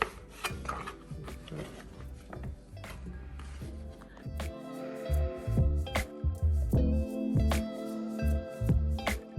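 Knife cutting food into roughly 1.5-inch cubes on a board, with repeated rasping rubs and sharp chopping knocks in an uneven rhythm, close and fairly loud.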